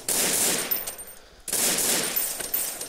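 Gunfire in the Garry's Mod sandbox video game: two bursts of rapid automatic fire, each lasting about a second and a half, loud and close, with a short gap between them.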